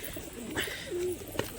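Pigeons coo in a low, wavering call on a rooftop loft during soft rainy weather, a couple of close, moderately loud coos over faint steady background hiss, with no talking.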